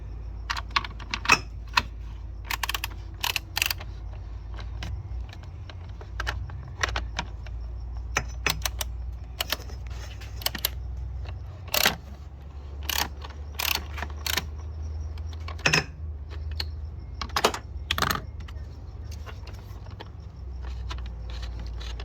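A 3/8 ratchet with extension and 13mm socket loosens the battery bracket on a 2017 Mercedes-Benz C300 W205, giving close, rapid clicking in irregular bursts over a low steady hum, with no voices.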